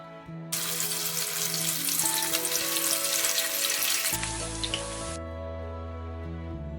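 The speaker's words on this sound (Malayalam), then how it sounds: "ഒരു ഗോൾഡൻ ബ്രൗൺ ആകുന്നത് വരെ ഫ്രൈ ചെയ്യാം" Cauliflower florets deep frying in oil over a medium flame for gobi manchurian, a dense loud bubbling sizzle that runs for several seconds then drops away, leaving a low steady hum, no voices.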